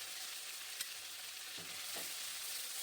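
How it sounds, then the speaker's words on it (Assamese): Stone-ground spice paste with whole cumin fries in hot oil for Hyderabadi chicken, a steady soft sizzle with a few light stirring scrapes, close and alone. "এইখিনি মই একদম ভালদৰে লাগি ধৰালৈকে মই ভাজি ল'ম"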